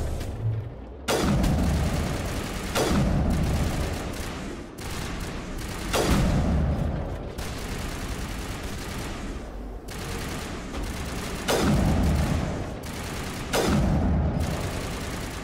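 Heavy gunfire in the video game Mass Effect Legendary Edition, with repeated booming bursts of shooting every couple of seconds over a constant dense battle din, no voices.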